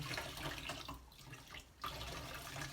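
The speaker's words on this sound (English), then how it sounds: "I would give this one more rinse to finally take any residue of the detergent away" Handspun yarn is rinsed in a basin to clear detergent residue, with steady splashing and running water that fills the scene, briefly easing before swelling again.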